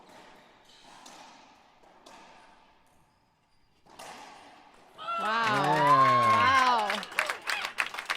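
A crowd at a finals match bursts into loud, sustained applause and cheering after a rally. The ovation follows a few seconds of quieter talk and a brief exclaimed voice.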